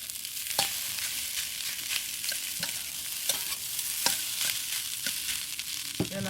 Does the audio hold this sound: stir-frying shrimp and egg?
yes